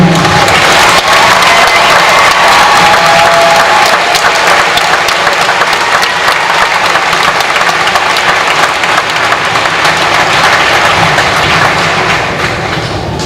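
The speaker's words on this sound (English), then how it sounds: "If you are a veteran or currently enlisted in the military, please stand. We would like to applaud you." At a 2024 high school graduation ceremony, a large crowd gives veterans and military members sustained applause, a loud dense roar of clapping that holds steady before easing slightly at the end.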